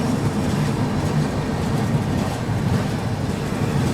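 The Seemanchal Express train being overtaken by the Sikkim Mahananda Express, a steady loud low rumble of rolling rail cars heard from on board.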